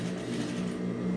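Home sewing machine running a steady continuous stitch through fabric for a microwave towel, with a low even motor hum close by and no talking.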